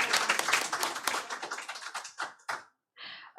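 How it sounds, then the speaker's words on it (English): Audience clapping for a panelist arriving at a marketing panel discussion, a brief burst of close, distinct hand claps from a small group that thins out and stops with a couple of last claps. "Please give an applause."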